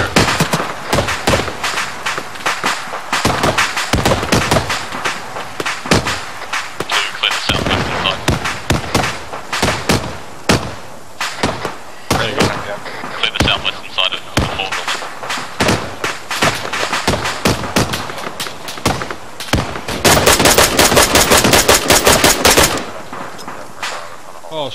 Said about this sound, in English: Red taking fire from southwest.